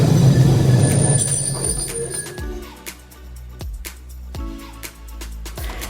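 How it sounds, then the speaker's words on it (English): Class 66 locomotive 66605 in orange livery moves a long stone train away from a station platform, a loud low engine rumble at first giving way to rhythmic wagon wheel clanks and thumps over rail joints. "66605 in the new orange livery, hauling a stone train"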